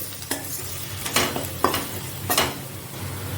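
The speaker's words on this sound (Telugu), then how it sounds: "సాల్ట్ అండ్ పప్పుకి తగినంత పసుపు స్పూన్ కారం యాడ్ చేసుకొని చక్కగా ఆనియన్స్తో ఫ్రై చేసుకోండి" Onions frying in a pan with salt, turmeric and chili powder hiss steadily while a spoon stirs them in three or four distinct scraping strokes, close and clear with no talking.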